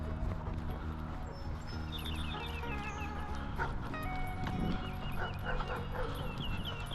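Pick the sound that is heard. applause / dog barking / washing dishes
dog barking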